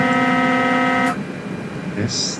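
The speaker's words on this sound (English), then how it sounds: "Here's the train horn." Horn of a Class 471 electric train sounds as a steady, loud multi-tone blast lasting about a second, then cuts off, leaving a quiet cab hum with a faint higher tone near the end.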